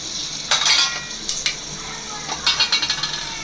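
Whole spices such as fenugreek, black peppercorns and cumin spluttering in hot oil for sambar rice, loud crackling bursts that come in several clusters, mixed with metal stirring clinks close up.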